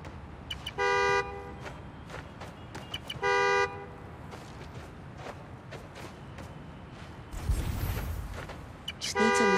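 Car horn blasts in the video game Spider-Man: Miles Morales, two sustained honks sounding clearly over street ambience, followed by a louder burst of rushing noise near the end.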